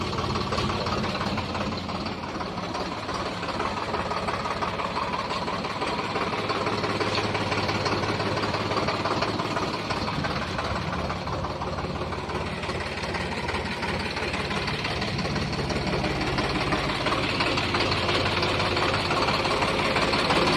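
A Swaraj 735 XM tractor engine idles steadily with a continuous rough, knocking rumble, close and constant throughout with no talking.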